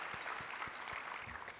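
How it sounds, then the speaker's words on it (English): Audience applause fills a luncheon room, a steady wash of many hands clapping at moderate volume, continuous throughout and fading slightly at the end. "Let's keep the applause going."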